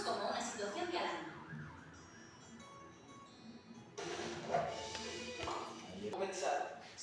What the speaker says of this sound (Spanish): reconocemos el sonido de una ambulancia y lo interpretamos como una situación de alarma